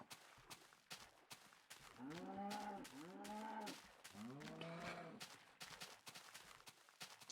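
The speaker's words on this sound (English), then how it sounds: "Get out of my way, cows." Cows mooing in the Minecraft Beta 1.7.3 video game, three drawn-out, fairly close lowing calls in a row over faint game sounds and quick footsteps.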